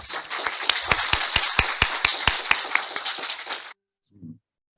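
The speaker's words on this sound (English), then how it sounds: "Let's welcome our panelists with a big round of applause." A small audience at a law and genocide talk applauds to welcome the panelists, with sharp, close individual claps in an uneven rhythm that stop abruptly, then a brief spoken sound follows.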